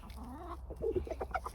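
Soft, low clucking from meat chickens, second-generation roosters and purebred hens, a few murmured notes close by in a quiet setting.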